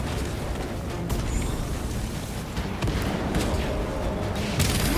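Small explosions from an enemy in the Warhammer 40K: Space Marine 2 video game, a dense rumbling stream of low bursts and pops running steadily through the whole stretch amid continuous combat noise.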